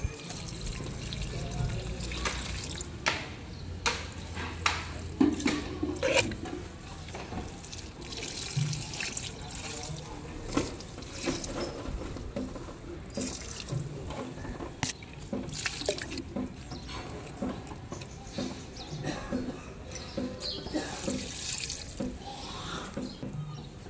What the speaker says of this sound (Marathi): मी सगळ्या झाडांना पाणी घालून घेते